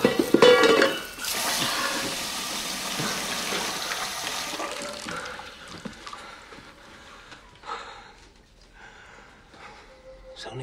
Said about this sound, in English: A saucepan, my love.